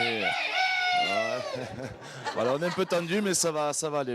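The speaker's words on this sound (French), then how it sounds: "On vient d'entendre un coq chanter" A single crow, like a rooster's, rings out amid pre-match surroundings before the 2011 Rugby World Cup final, and then someone speaks in French in the foreground.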